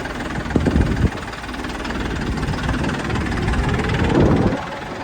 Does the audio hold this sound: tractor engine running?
yes